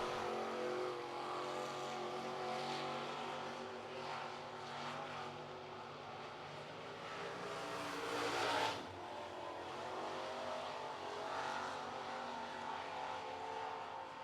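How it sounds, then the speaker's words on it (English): A sportsman race car runs a qualifying lap at Cherokee Speedway, its engine roaring steadily from a distance, swelling louder as it passes close by, then fading again. "Here comes Fowler off of turn number 4. New quick time."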